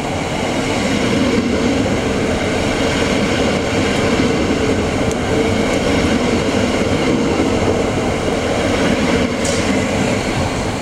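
A train rumbles steadily close by as it arrives at platform 1A, a continuous low mechanical roar of rolling wagons with faint metallic squeals near the end, and no voices.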